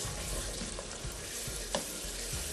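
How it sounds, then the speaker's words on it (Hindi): White prawns fry with spices in a karahi, a steady, dense sizzle running throughout with occasional soft scraping stirs, close and alone with no voices. "बस तमाम मसालों के साथ खूब अच्छे से आपने भुनाई करनी है, तकरीबन 4 से 5 मिनट तक"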